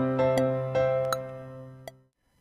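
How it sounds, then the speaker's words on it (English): Recorded MIDI piano clip played back in Mixcraft 7, a few struck notes and chords ringing out over about two seconds before fading to silence, no talking. "I've recorded a piano clip here,"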